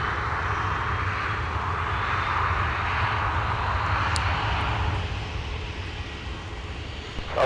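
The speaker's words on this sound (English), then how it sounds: "This is Delta off to Denver, Colorado with the 737-900ER" A Delta Boeing 737-900ER taxis toward runway 17 at a snowy Minneapolis airport in winter, its jet engines producing a steady, close, continuous roar with a broad hiss that eases slightly near the end.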